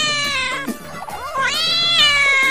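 A kitten meows repeatedly near a pond, high drawn-out cries in a close, loud series with short gaps and no talk over them.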